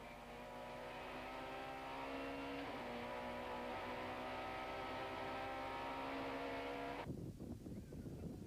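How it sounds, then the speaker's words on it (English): An on-board BMW Envirocar Super Touring race car from the 1995 South African championship at East London, its engine roaring loud and close with a steady high whine for about seven seconds before the pitch abruptly drops and turns rougher. "these terrific action shots from race cam mounted on the side of Sean van der Linde's BMW Envirocar"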